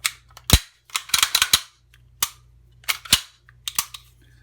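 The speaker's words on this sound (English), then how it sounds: "Make sure our guide rod is centered, and reinstall the slide." Metal clicks and snaps ring out as the slide of a SIG P320 pistol, fitted with a Gray Guns competition trigger, is slid back onto its frame, a quick irregular string of close, crisp clacks.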